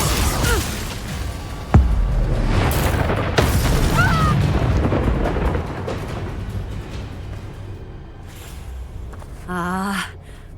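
Fiery Confringo and Bombarda spell blasts in the wizarding game Hogwarts Legacy, several sharp booming bursts in the first half of a chaotic duel, followed by quieter ambience and a short shrill magical tone near the end.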